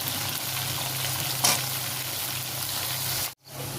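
Chopped vegetables and potatoes fry in a pan with a constant close crackling hiss and one brief clink, until the sizzle cuts out abruptly just before the end.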